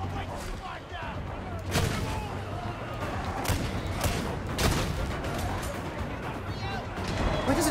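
Repeated gunfire and heavy impact booms come from the shooter video game Warhammer 40k: Darktide. The bursts are irregular over a constant rumbling battle din, and speech is heard in the clip.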